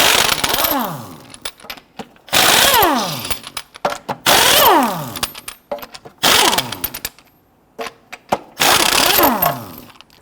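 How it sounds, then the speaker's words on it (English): Lug nuts being loosened and removed with a 22mm socket on a 2006-2014 Honda Ridgeline front wheel, five loud close bursts of an impact wrench whining down in pitch, separated by rattles and clinks of nuts. "you can loosen and remove your lug nuts"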